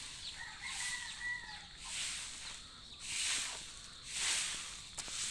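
Chickens in a backyard coop where hens lay their eggs, with soft clucks and a few crowing-like calls rising in several bursts against a steady outdoor hiss and faint bird chatter.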